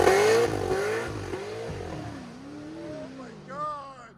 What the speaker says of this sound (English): I'm gonna have you rev it because we barely revved it.